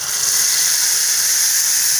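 Garlic hitting hot oil already cooked with cumin, a steady bright sizzle and hiss holding close and loud without pause.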